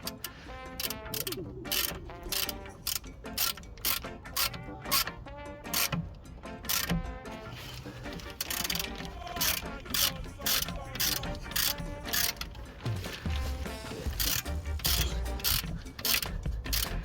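A ratchet tightens the hub bolts on a Hyundai i30 front wheel bearing hub assembly, giving a steady run of close, loud metallic clicks in quick bursts throughout with no talking.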